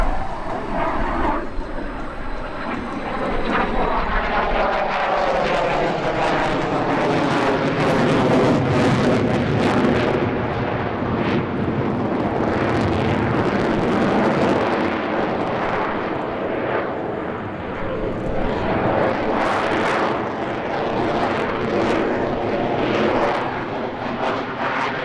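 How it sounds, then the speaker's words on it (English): An F-22A Raptor fighter jet roars through a flying display at the Cleveland airshow, a loud, continuous jet rumble with sweeping shifts in pitch as it passes, buffeted by wind on the microphone. "The F-22A Raptor performed with flares for the first time in 2023, albeit only at selected overwater show sites."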